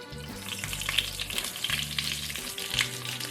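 Saltine-breaded pork cutlets fry in a pan just below medium heat, giving a close, continuous crackling sizzle with bursts of spattering and a low hum underneath.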